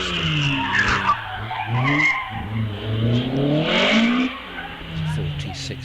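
A race car on its run at the Wiscombe Park hillclimb in the British Hillclimb Championship revs hard through gear changes, engine pitch climbing and dropping with tyre squeal, while a commentator talks over it throughout.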